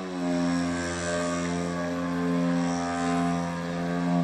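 Electric motor of a 42% Hyperlite Slick 540 RC plane running at partial throttle, a steady tonal whine with a slight rise and fall in pitch, continuous and fairly close, with no one speaking.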